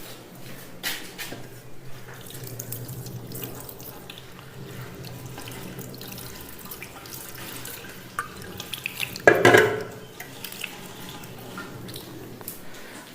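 Water runs steadily from a tap while hands are washed during the ritual washing of a deceased person, close and continuous, with a louder splash near the end and no talking.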